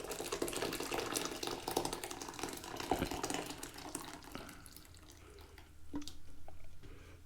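Curd and whey from heated UHT milk pour out of a pot in a continuous watery splashing stream, loud at first and tapering with a few drips toward the end.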